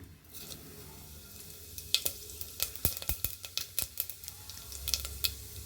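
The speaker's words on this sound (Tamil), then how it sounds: "எண்ணெய் சூடானதுக்கப்புறம் இதில் இலை, பட்டை, கிராம்பு, மிளகு, ஜீரகம் சேர்த்துக்கிறேங்க." Whole spices sizzle and crackle in hot oil: bay leaf, cinnamon, cloves, peppercorns and cumin, with a run of sharp pops and spits over a low, steady frying hiss, close up and without talk.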